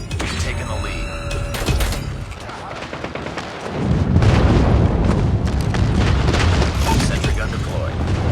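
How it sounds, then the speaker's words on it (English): Airstrike explosions and gunfire in Call of Duty Mobile on the Shipment map, a dense loud barrage of booms and rattling shots with a heavy rumbling blast near the middle, mixed with game voice callouts. "Friendly airstrike incoming."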